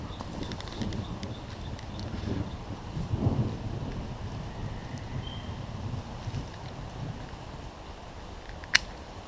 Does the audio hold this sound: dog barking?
no